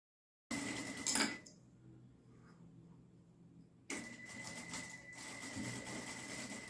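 A sewing machine stitches fabric for a trapezoid zip pouch, running in a steady whirring burst, easing to a quieter hum for a few seconds, then picking back up at full pace, close and clear with no talking.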